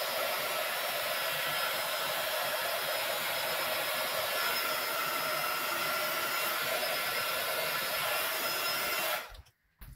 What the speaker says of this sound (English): I'm just going to quickly heat that with the embossing tool from below to kind of dry off